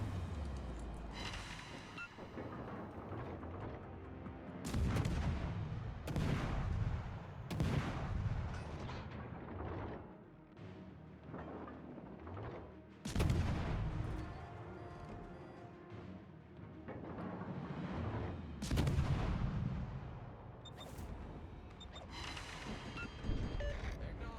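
An enemy rear gunner fires during a video game air battle, with repeated heavy bursts of booming gunfire in clusters and short lulls between them, loud and close.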